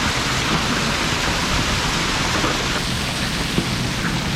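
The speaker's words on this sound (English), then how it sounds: "Quite the hailstorm going on right now. Ice cubes are falling out of the sky." Hail pours down outdoors in a dense, steady hiss of ice striking surfaces, continuous and fairly loud throughout, with an occasional sharper impact standing out near the end.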